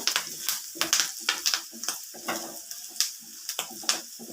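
Curry leaves sizzle in hot oil with onions and fennel while making a Kerala squid roast, a steady crackling fry broken by frequent sharp spits and pops, close and fairly loud, with no talking.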